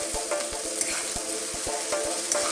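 Eggplant with tomatoes frying in a pan for baked eggplant parmigiana, a continuous close sizzle broken by repeated soft taps and scrapes as it is mixed.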